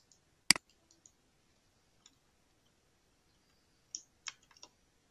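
Light taps on a phone screen while entering a WhatsApp number: one sharp click, a few faint ticks, then a quick cluster of taps near the end, in an otherwise quiet room.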